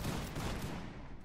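A musket volley in Mount and Blade Warband rolls out as a dense, crackling fusillade of many overlapping shots, a broad roar that fades quickly.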